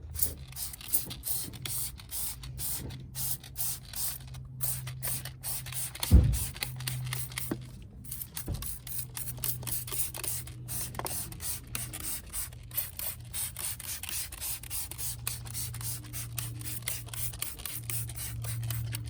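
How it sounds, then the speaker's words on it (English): A light hiss of spray-off, rinse-off sealant sprayed onto car wheel barrels and faces, continuing in short bursts over a steady low hum, with one brief thump partway through. "just going to give a light spray in the barrels and on the face"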